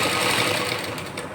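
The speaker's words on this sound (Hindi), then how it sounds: "अभी मैं थोड़ा सा सिल लेती हूँ फिर दिखाती हूँ आपको।" A sewing machine runs along the fabric edge of gents' shorts, a loud close continuous whirring stitch throughout.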